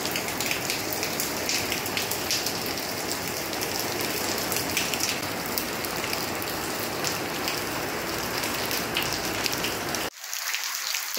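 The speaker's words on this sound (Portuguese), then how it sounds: "tá caindo uma chuvinha, até boazinha aqui em Fortaleza, às 7h10 da manhã" Steady morning rain falling on surfaces in Fortaleza, a dense, even hiss that holds constant for about ten seconds before cutting off abruptly, with no voices.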